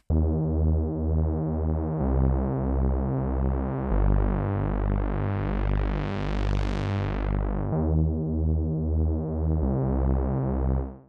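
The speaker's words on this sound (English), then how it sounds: "the last bass I will showcase is a really analog sounding Reese bass" Thick, analog-sounding Reese bass preset on the Diva synth, holding long sustained notes that change every two seconds, with a swirling, phasing detuned texture and a filter swell brightening in the middle, loud and alone.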